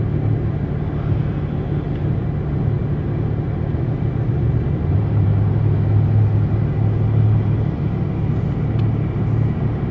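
A 2001 Chrysler Prowler on the move, its engine a steady low rumble with a droning hum that rises slightly midway, continuous and close throughout with no talk.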